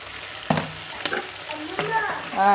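Masala gravy for a dhaba-style chicken curry cooking in oil, heard as a low sizzle broken by several sharp stirring scrapes and clinks of a utensil against the pan.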